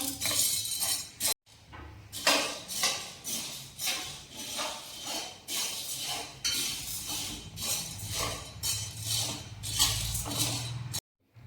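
Sabudana dry-roasting in a kadhai, with a spoon scraping and clinking against the metal pan in a steady, repeated rhythm throughout.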